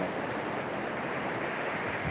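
Waves wash onto a wide white sand beach in a steady, unbroken roar of surf, close and moderately loud, with light wind and no talking.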